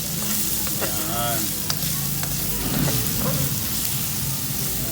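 Chopped onion and ginger sizzle and fry steadily in a hot pan for lugaw, a continuous close crackle with stirring, and a voice briefly speaks over it.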